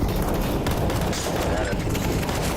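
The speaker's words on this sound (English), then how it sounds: "Throwing a grenade." Grenade thrown and bursting in a Counter-Strike-style shooter, part of a dense, continuous wash of gunfire and explosive noise filling the whole moment at steady loudness, with a voice talking underneath.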